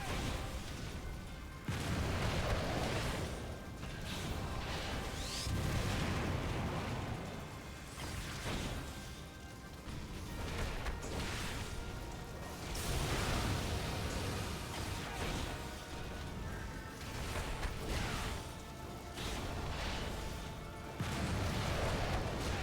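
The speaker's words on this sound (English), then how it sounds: "as you notice, he's just sending out lots of big explosions" Repeated big explosions cast by Ifrit in a Final Fantasy XIV battle, a long wash of rumbling booms and crackling bursts that swell and fade in waves over steady game noise.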